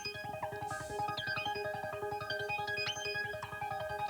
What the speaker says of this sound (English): this like pluck kind of sound, plucking synthy sort of sound.